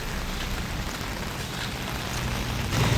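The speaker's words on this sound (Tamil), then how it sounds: "மழை தூவான மழை காற்று கொஞ்சம் வேகமாக அடிக்கிறபடியாக" Drizzling rain blown by a strong wind, a steady broad hiss of spray and gusts throughout, with a brief low rumble right at the end.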